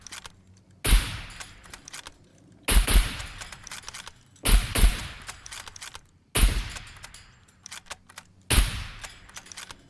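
Gunfire from a weapon in the video game SCUM, with five loud, sharp bursts of shots spaced about two seconds apart. Each burst has a short decaying tail, and no voices are heard.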